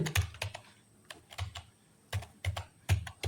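Computer keyboard typing a program name, several quick bursts of keystrokes with short pauses between, close and clear with no talking.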